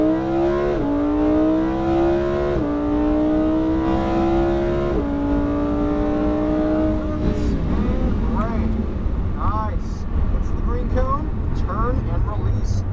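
A Lamborghini Huracan accelerates hard on a track, its engine note climbing through several upshifts in steady sweeps before settling into a rougher, fluttering drone, loud and close throughout with an instructor's voice talking over it.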